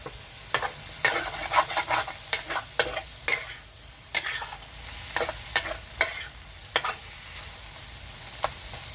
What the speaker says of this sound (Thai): ผัดให้เข้ากันค่ะ